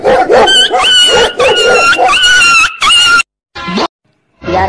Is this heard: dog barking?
yes